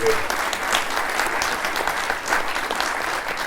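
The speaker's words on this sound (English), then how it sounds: "I think we should give them another round of applause" Audience applause at a men's discussion event, dense continuous clapping from a seated crowd heard close and fairly loud, with no speech over it.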